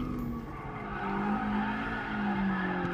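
A Toyota AE86 drifts around a mountain touge corner in Gran Turismo Sport, its engine droning steadily close by with tire squeal blended into the roar throughout.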